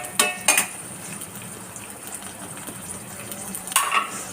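Raisins frying in ghee in a pan, a soft continuous sizzle with a few sharp clinks of a utensil against the pan near the start and again toward the end.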